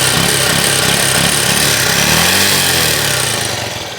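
A motorcycle engine starts and revs, a loud, steady, buzzing drone that fills the whole clip with a rough low pulse and eases slightly toward the end.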